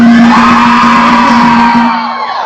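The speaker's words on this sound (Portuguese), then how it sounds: "Dá gritinho pra mim de novo, que não tem preconceito" A school dance show audience screams and cheers loudly, a dense wall of high-pitched whoops and yells with a sustained shrill tone, fading somewhat near the end.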